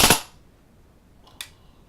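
A CYMA AKM airsoft gun fired on full auto gives one loud close crack at the start, followed by quiet and a fainter second snap near the end.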